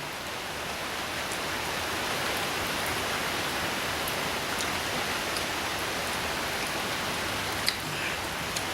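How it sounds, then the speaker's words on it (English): Steady rain falls outdoors, a dense, even hiss of drops that runs unbroken from start to finish, with no voices over it. "We tried to do it outdoors, but it started raining on us"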